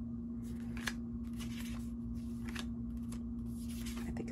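Scissors trim paper for a scrapbook album, a series of short crisp snips spaced through the clip over a steady low electrical hum, close and moderately quiet with no talking.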